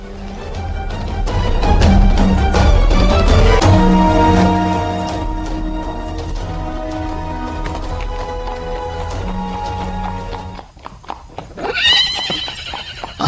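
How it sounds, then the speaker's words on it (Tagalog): A horse neighs loudly and repeatedly while hooves clip-clop nearby, then a second, higher whinny rises near the end. "usa to sa kabayo ni Ronaldo"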